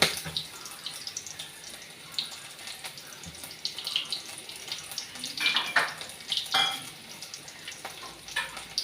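Sliced small red onions frying in hot oil for a tempering, giving a steady soft sizzle with brief crackling bursts, heard close and alone with no talk.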